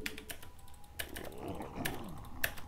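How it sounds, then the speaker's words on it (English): Rapid keystrokes on a computer keyboard, with irregular clusters of sharp clicks and a few louder taps, close and moderately quiet over a faint low background hum, during a StarCraft game. "You'll see me typing away."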